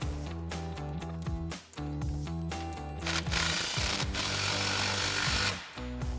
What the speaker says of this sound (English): We're gonna use our 15mm socket on our impact to do that.